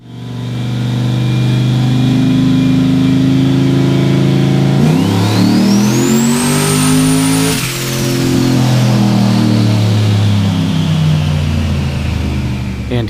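Turbocharged junkyard LS V8 in a Chevrolet Colorado screaming through a short dyno pull, loud and steady, with a rising engine pitch that climbs toward the rev limiter, briefly dips, then holds at high revs.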